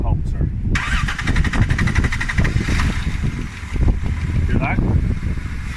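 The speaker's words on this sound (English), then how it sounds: "now he's going to start his van" A van engine cranks and catches after a throttle body cleaning, then settles into a rough idle close by, with people talking over it.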